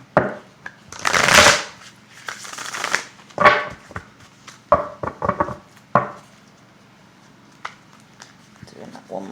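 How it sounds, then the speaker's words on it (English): A deck of tarot cards is shuffled in several bursts of riffling and flapping, close and fairly loud, with brief pauses between them and a voice speaking softly in the gaps. "Doing one more shuffle."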